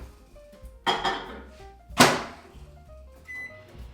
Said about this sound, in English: So let's pop this in the microwave.